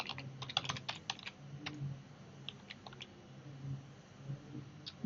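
Quick, uneven bursts of keystrokes on a computer keyboard, close and fairly quiet over a low steady hum, with short pauses between runs of clicks.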